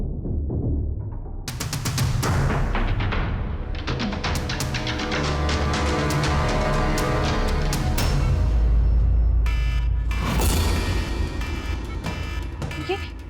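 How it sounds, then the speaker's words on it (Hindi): A loud alarm blares continuously in a hospital where smoke is spreading, layered over a dense, busy din for the full stretch. "ये अलार्म"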